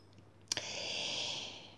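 Tarot cards are cut and shuffled by hand. A single sharp card snap is followed by a soft, airy riffling hiss that lasts about a second, quiet and close, with no talk.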